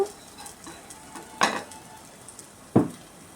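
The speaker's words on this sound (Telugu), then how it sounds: "పచ్చి వాసన పోయేలాగా పర్ఫెక్ట్గా వేగనివ్వాలండి ఈ పేస్ట్ అంతా కూడాను" Spice paste for a bottle gourd fish curry fries in a pan under a quiet sizzle, with two sharp, loud scrapes of a utensil against the pan close up. No voices.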